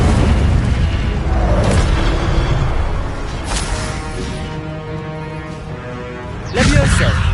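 In the Hogwarts Legacy video game, the Incendio fire spell sets off a loud, rumbling fiery blast that rolls on continuously, with a fresh burst toward the end, among other game effects and a voice.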